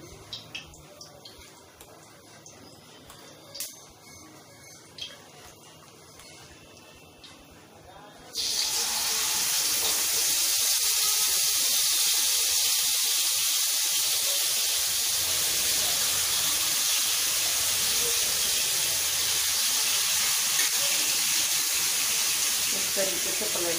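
Chicken dropped into hot desi ghee for Hyderabadi hariyali chicken, a loud sudden hiss that bursts in partway through after quieter kitchen sounds, then holds as a dense, steady sizzle to the end.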